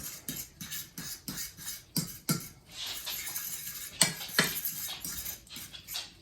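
Eggs and parsley are mixed in a bowl for a tortilla breakfast pizza, with irregular clinks and scraping taps of a utensil against the bowl, close up, no voice.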